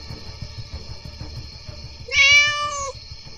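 A cat sound effect from a Hindi audiobook: one clear, drawn-out meow near the end, rising above soft, rhythmic background music.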